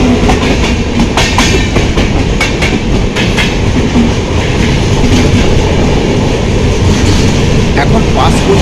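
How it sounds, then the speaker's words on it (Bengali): The Dibrugarh–Kanyakumari Vivek Express rushes past alongside a train at a crossing, a loud continuous roar with rhythmic clickety-clack of wheels over rail joints and occasional squeals. "এখন পাস করছে কন্যাকুমারী বিবেক এক্সপ্রেস।"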